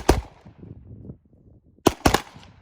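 Rifle volley fired at a memorial gathering: one sharp crack at the start, then after a pause two close, loud shots in quick succession, each ringing out with a short echo.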